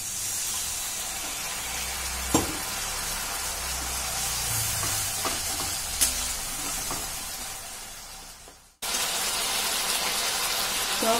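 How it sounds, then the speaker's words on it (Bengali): Egg curry sizzles steadily in a pan after a splash of water is added, a broad, loud frying hiss with a few stirring knocks, briefly cutting out near the end before resuming. "সামান্য জল দিয়ে দিলাম।"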